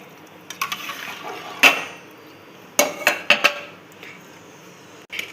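Rice is stirred in a pot of boiling water while cooking a potato and egg biryani; several sharp clinks and scrapes of a utensil against the pot come in short clusters over a quiet bubbling background.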